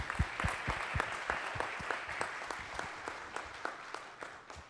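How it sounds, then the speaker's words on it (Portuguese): Audience applause at an executive-of-the-year tribute ceremony for the CEO of Xerox do Brasil: loud, close individual claps ring out in an uneven patter that carries steadily for the whole stretch, with no talking. "Uma salva de palmas, Ricardo Carbajo."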